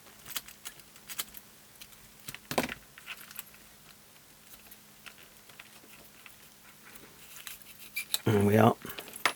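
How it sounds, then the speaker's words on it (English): Plastic keys being lifted out of an Amstrad CPC 464 home computer keyboard, giving scattered small clicks and ticks, faint and close, ending in a louder rattling burst near the end. "We should just be able to lift the keys out."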